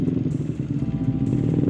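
A Honda Mio motorcycle engine in a video game idles and burbles with a steady low rumble, loud and close, with faint clattering ticks on top.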